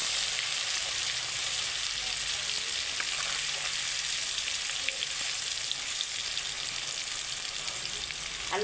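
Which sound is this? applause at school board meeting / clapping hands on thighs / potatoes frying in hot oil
potatoes frying in hot oil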